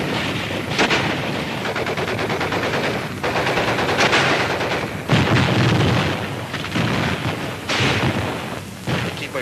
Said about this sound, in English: The mortar barrage searches out hidden machine gun nests.